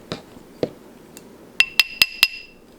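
A hammer taps a metal stacker ring on a mandrel: two dull knocks, then four quick bright metallic clinks that ring briefly after each strike.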